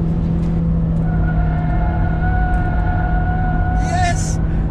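A Kia Stinger GTS with a manual gearbox drones steadily on a race track as it shifts into fourth gear, a loud, continuous engine tone with a brief higher whine near the end.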